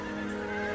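A horse lets out a short, steady whinny, close and clear, lasting under a second with no talk over it.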